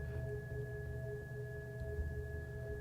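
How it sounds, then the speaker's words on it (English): Faint, steady synthesizer sine tones hum continuously at several pitches over a low, noisy rumble, with no talking. "I could also go from more noise to more pure sine wave sort of pulses there"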